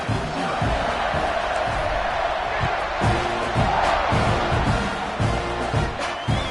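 Football stadium crowd roaring after a long scoring drive as the kickoff unit takes the field, a dense, loud, sustained wall of cheering and shouting with occasional thumps and whoops.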